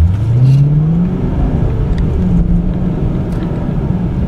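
A 2013 Lexus ISF engine revs up in a rising whine, then settles into a loud, steady drone close by.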